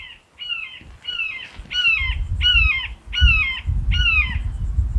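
A hawk calls outdoors beside a workshop shed, giving six harsh, downward-sliding cries about a second apart. The cries sound fairly close and carry over a low rumbling background.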